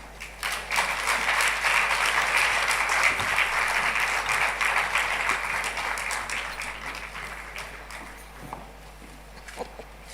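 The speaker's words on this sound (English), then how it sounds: "Another round of applause for her." Audience applause at a Nigeria Governors Wives Forum anniversary conference, a sustained round of clapping from a large hall crowd that slowly thins and fades toward the end.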